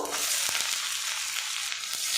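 Radish added to lightly fried onion in a hot oiled pan, a loud even sizzle with a few soft knocks and stirs scattered through it.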